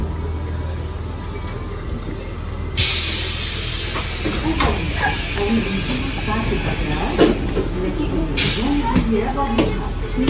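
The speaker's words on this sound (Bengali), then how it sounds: "উপরে মানে ডাবল ডেকার ট্রেন" A double-decker train in Paris rumbles along with a burst of hissing air, clattering and squealing wheels, while people talk nearby.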